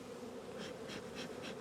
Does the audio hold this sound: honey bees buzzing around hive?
yes